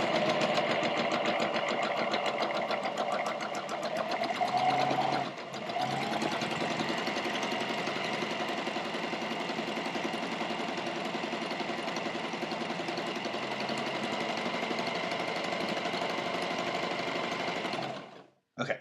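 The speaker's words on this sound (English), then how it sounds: "you push down on the foot pedal, and it should start sewing" A sewing machine stitching fabric at a steady, fast rhythm under foot-pedal control, running continuously with one brief pause near the start and stopping near the end.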